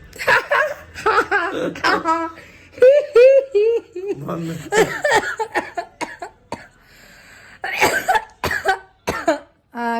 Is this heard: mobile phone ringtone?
no